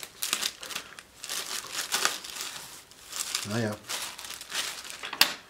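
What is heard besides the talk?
plastic bag of an edge router crinkling while being opened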